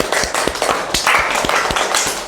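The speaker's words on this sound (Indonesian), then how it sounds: "Tepuk tangan dulu." A class of students applauds a presenting group in an Islamic education lesson, with brisk, fairly loud clapping from many hands in an irregular rhythm, continuing throughout with no talk.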